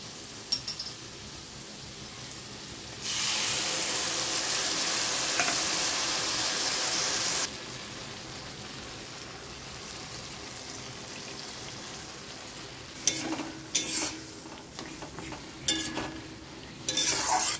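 A ground spice paste of everyday spices, white sesame and a little cashew fries with potatoes in a pan. A soft steady sizzle swells into a loud rushing burst for a few seconds, then scattered clacks of stirring follow near the end.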